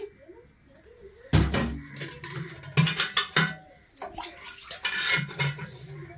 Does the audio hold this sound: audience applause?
no